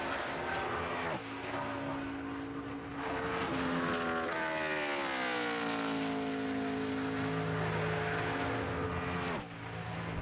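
NASCAR stock car engines scream past during qualifying for the 2012 Brickyard 400 at Indianapolis. Loud, sustained high-revving roars swell as a car nears, then the pitch falls as it passes down the long straightaway.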